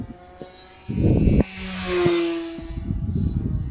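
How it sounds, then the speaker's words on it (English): An E-Flite Decathlon RC plane takes off from longer grass, its electric motor rising to a loud buzzing whine that swells and slowly fades as it climbs away, with rustling wind noise at the end. "A little bit of longer grass just to get this plane rolling, and then it's up in the air really quick."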